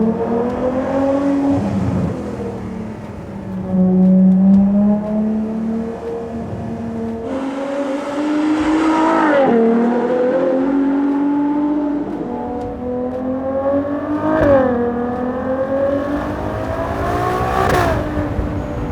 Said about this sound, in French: Là, le bruit du moteur